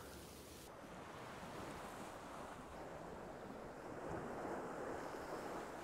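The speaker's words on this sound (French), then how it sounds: "La plage des Dames, c'est sûrement la plus connue de Noirmoutier." Ocean waves wash onto Plage des Dames beach on the island of Noirmoutier as a soft, continuous surf roar mixed with wind rumbling on the microphone, distant and fairly faint, with no voices.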